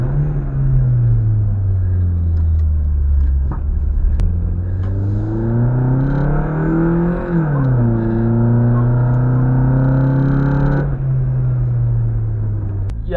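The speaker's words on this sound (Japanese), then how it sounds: "排気音変えてからねめちゃくちゃねちょっと加速するときにねいい音鳴るんですよね" A modified exhaust on a Toyota Wish ZNE10G minivan rumbles loud and close as the car accelerates, its deep engine note climbing, dipping briefly and rising again steadily across the whole stretch.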